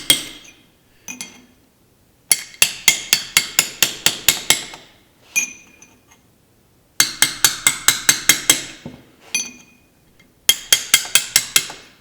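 A hammer drives a chisel against the lock tabs on the nuts of an International Farmall Super H tractor, sharp metallic taps in quick bursts of five to eight strikes separated by pauses, close and loud with no talk.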